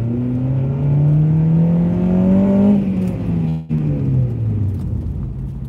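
A car engine revs up, its pitch rising and holding, then briefly cutting out before dropping back and climbing again; loud and close.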